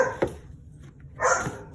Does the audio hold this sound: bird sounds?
no